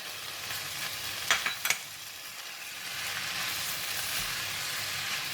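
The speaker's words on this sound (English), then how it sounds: "Now I'm going to put in the tofu and the egg, the spring onions and the parsley." Mee goreng being stir-fried with tofu, egg, spring onions and parsley gives a steady, moderately loud sizzle throughout, with a couple of sharp spatula clinks near the start.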